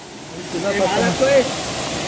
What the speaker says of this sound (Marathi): वरून धबधब्यासारखं पाणी पडते वरून